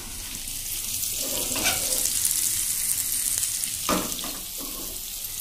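Chickpeas set on to cook in a pan for an evening meal, a steady broadband sizzle and bubbling running throughout with a few brief clinks and scrapes, close and fairly loud with no talk.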